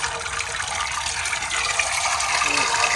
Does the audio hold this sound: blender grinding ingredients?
no